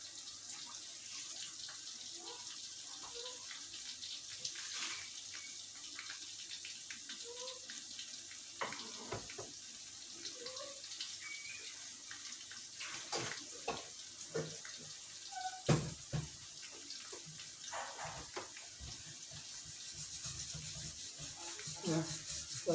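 Quiet splashing of water being poured into a pot of nihari, with soft clinks and rustles of kitchen activity around it.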